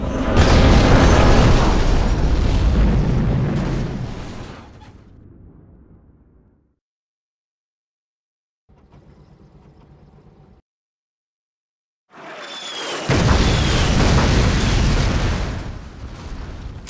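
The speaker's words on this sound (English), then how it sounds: "Particle cannon ready." Particle cannon superweapon blasts from Command & Conquer Generals: heavy, rumbling explosions that roar and fade, a quiet stretch with a faint crackle, then another loud booming blast.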